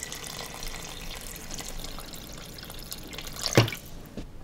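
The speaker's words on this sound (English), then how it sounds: "we're going to continue to add enough water to just cover" Water trickles and splashes quietly into a pot, with a brief louder gush near the end before it tapers off.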